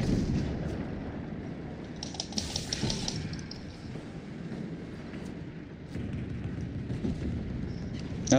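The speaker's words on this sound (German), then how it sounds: "Schüsse vor uns." Gunfire in a Fortnite match, a dense rumbling run of shots and blasts sounding at mid distance throughout, with brief sharper bursts standing out partway through.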